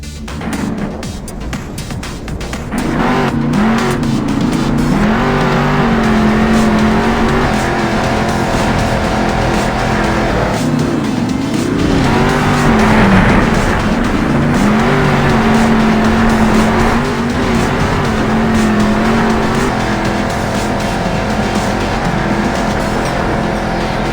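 A monster truck drives in Monster Jam Steel Titans on Nintendo Switch, its engine droning loud and continuous with rising and falling revs and occasional tire squeals, alone and without talk.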